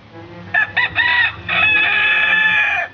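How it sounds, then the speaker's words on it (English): A rooster in a lawn gives a come-hither call to nearby hens after finding a grasshopper. A few short, sharp clucks are followed by a longer, sustained call, close and clear against a quiet background. "A rooster finds a grasshopper in the lawn, and if there's hens nearby, and only if there's hens nearby, he may make a come hither call."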